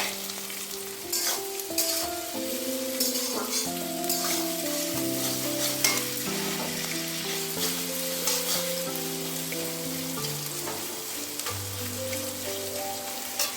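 Onion and green chillies fry in oil in a pan, giving a dense, crackling sizzle while a spatula stirs now and then. Music plays softly underneath, and no one speaks.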